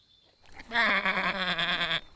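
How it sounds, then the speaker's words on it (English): A sheep bleats loudly in a farmyard scene of the cartoon, a single long wavering cry of about a second and a half, close and clear after a brief quiet lead-in. "These are the sheep."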